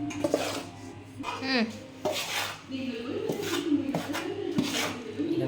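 Spoon scraping and clinking around a bowl while ingredients are mixed, a steady close rhythm of stirring with a background hum and faint bird calls.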